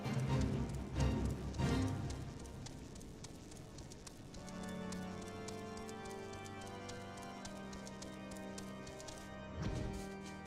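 Horse hooves clip-clop in a video game, with rhythmic clopping strongest at the start, then fading under a sustained musical tone and ambient sounds.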